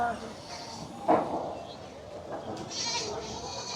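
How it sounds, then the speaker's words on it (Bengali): Goats bleat at a village animal market, with one clear bleat cutting through steady crowd chatter and people talking nearby. "দেখুন এখানে সব ছাগল বিক্রি হচ্ছে।"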